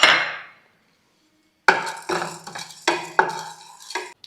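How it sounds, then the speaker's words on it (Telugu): Two spoons of urad dal are dry-fried in a pan. After a brief hush, a spoon scrapes and the dal rattles against the metal in several distinct, close strokes, with no voices. "ఇదే ప్యాన్లోకి టూ స్పూన్స్ ఆఫ్ మినుములు తీసేసుకొని ఫ్రై చేసుకుందాం"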